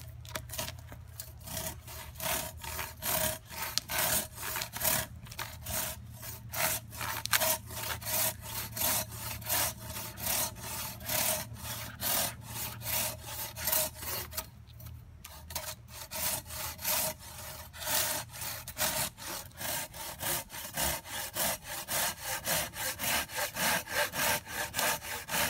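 Silky Katanaboy 650 hand saw cutting dry firewood, a steady back-and-forth rasp of strokes repeating throughout, close and fairly loud with a low hum underneath.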